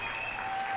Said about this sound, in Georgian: აპლოდისმენტები ნინას კიდევ.